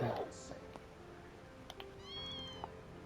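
A short cat meow from Trails beyond the Horizon, a bright tonal call near the start, with quieter game ambience and faint chimes after it.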